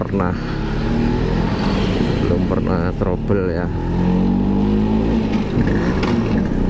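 An old Vespa VBB scooter engine fitted with aftermarket internals runs steadily and loud throughout, a continuous buzzing drone with some revving, while someone talks over it.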